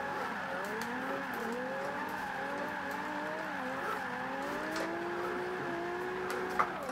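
A Nissan 370Z drifting in Forza 5, its engine note wavering up and down beneath a continuous tire squeal that holds through the whole stretch, steady and moderately loud, with no voices over it.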